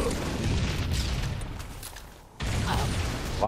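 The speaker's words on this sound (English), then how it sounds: "A lot of grenades I was just throwing." Grenades going off in Halo 3 multiplayer matchmaking: dull, rumbling booms over a wash of broadband game noise, which drops briefly before a loud new blast cuts back in near the end.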